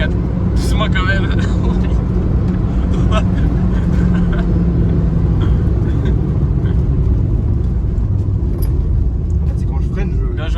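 A Renault car engine, either a Clio or a Twingo, runs hard while racing, with a loud, steady rumbling drone heard from inside the car, and people talk over it throughout.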